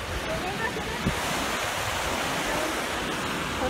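A waterfall roars steadily inside a graffiti-covered tunnel, a broad hiss and rumble of rushing water echoing in the enclosed space, with a faint voice barely audible underneath.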